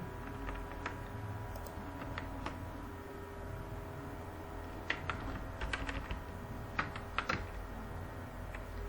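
Light typing on a computer keyboard during a coding lesson: faint, scattered keystrokes in a quiet room, with a few clustered taps in the second half and no talking.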